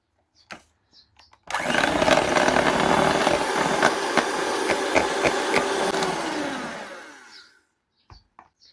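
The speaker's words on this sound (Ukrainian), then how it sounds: "вбиваємо в неї одне яйце і збиваємо гарно міксером" An electric hand mixer beats a single egg in a bowl, starting abruptly into a loud steady whir with rattling against the bowl for about six seconds before winding down, with faint clicks before and after.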